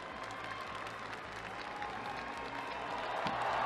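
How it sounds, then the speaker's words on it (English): A gymnastics arena crowd roars and applauds after a horizontal bar landing, a dense, sustained wash of clapping and cheering that swells slightly toward the end. "Big roar from the crowd."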